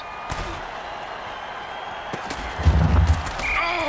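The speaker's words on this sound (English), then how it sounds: "Oh, that's a vicious hit, and the crowd loves it." A vicious tackle lands in a Mutant Football League game, a heavy thudding slam with a low boom, followed by a surge of crowd roar over a steady background of stadium noise.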